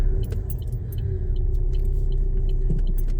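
A learner driver moves off from a stop near a roundabout in first gear, the car's engine a low steady rumble and hum inside the cabin, with light intermittent clicks and rattles over it, no talking.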